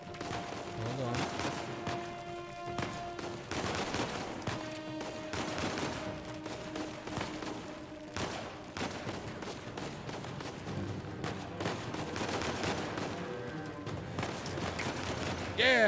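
Gunfire in Uncharted 4, with repeated loud shots and bursts cracking throughout a long firefight in an irregular rhythm, layered over background game sound.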